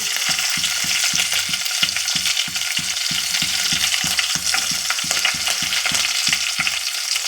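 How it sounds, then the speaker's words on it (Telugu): Onion and green chilli pieces frying in a pan, a loud continuous sizzle up close with a regular rhythmic thumping of stirring beneath it. "ఇవన్నీ ఫ్రై కావాలండి ఉల్లిపాయ ముక్కలు ఫ్రై అయ్యే లోపల"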